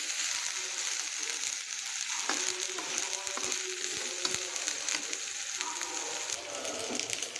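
Catfish sizzles in a pan after a turmeric, chili, coriander and salt mix is poured in. A close, continuous frying hiss is dotted with light clicks and clinks of stirring, and no one speaks.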